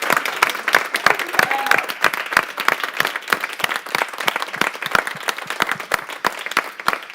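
A conference audience at a summit in Quebec claps steadily from start to end, the dense sharp claps of a sizeable crowd, fairly loud and close, with a few faint voices beneath.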